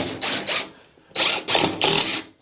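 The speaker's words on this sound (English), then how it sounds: "we're going to run some screws along the new opening to help support the ceiling boards" A power screwdriver drives plasterboard screws into ceiling boards around a loft hatch opening in three loud, whirring bursts close by, with a short pause after the first.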